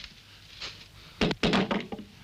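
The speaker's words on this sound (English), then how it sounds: "Throw down the gun." A gun is thrown down onto the ground in a Western setting, landing with a couple of dull, close thuds followed by a brief rattle.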